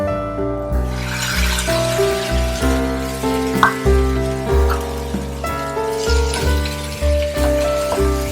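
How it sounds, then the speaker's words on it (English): Tomatoes frying in garlic ginger paste for a prawn curry, a continuous sizzle under a repeating pulsed background beat, moderately loud throughout. "And fry them till the tomatoes turn soft."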